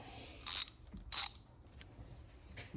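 A socket wrench ratcheting on an Echo PAS-2620 weedwhacker, two quick bursts of dry clicking close by, then faint clicks and handling noise, fairly quiet with no talk.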